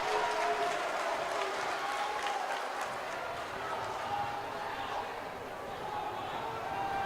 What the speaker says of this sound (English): the crowd making as much noise as they can in a rivalry game